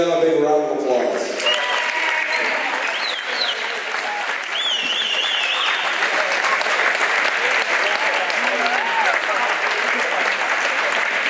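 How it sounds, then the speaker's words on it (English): Applause for award recipients at a livestreamed event, a sustained, fairly loud round of clapping that swells after the first second, with whoops and chatter over it. "If we could all give them a big round of applause."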